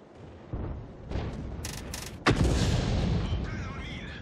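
Artillery fire in the World of Tanks tank battle game: several booming cannon shots, one after another, with the heaviest blast near the end trailing into a rumbling decay over the battle noise.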